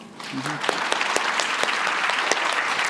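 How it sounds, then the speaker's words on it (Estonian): An audience at an Estonian teachers' training day breaks into a short burst of steady applause, dense and close, with a few sharp louder claps standing out and a brief voice at the start. "teeme veel ühe aplausi"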